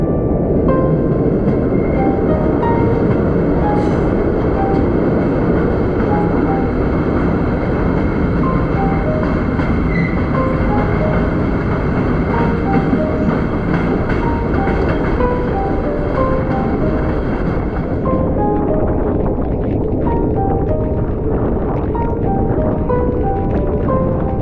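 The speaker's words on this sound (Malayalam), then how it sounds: "നമ്മുടെ രണ്ടാമത്തെ ടണലിലേക്ക് വണ്ടി കയറി." A Punalur–Tenkasi passenger train runs into a tunnel with a loud, continuous rumble, rhythmic wheel clicks and a steady metallic whine, and the sound changes character near the end.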